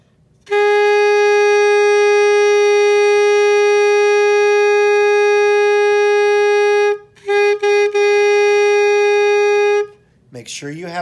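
A saxophone holds one long, steady, pure tone for several seconds at beginner-lesson practice volume, then breaks off briefly and sounds a few short restarts before stopping.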